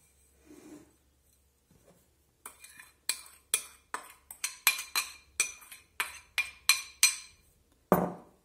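Almond powder, flour and sugar being mixed in a bowl, a quick series of about a dozen sharp, close utensil scrapes and clinks against the bowl, ending in a louder knock, with no talk.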